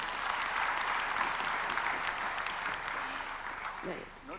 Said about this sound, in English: A big round of applause to His Excellency.